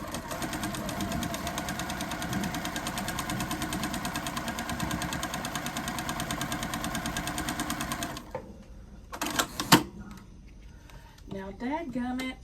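Home sewing machine stitching a quilt block, a steady fast mechanical whir running close and loud for about eight seconds before stopping, followed by quieter handling clatter and brief bursts of sound.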